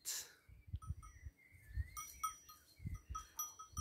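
Farm animals wearing small bells pass by in open countryside, giving faint high tinkling chimes over soft scattered thuds of hooves or movement, with distant low animal sounds.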